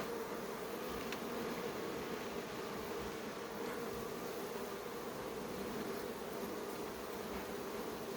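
Honey bees buzzing around an open ten-frame hive during an inspection, a dense, steady close drone with individual bees flitting past the microphone, no voices.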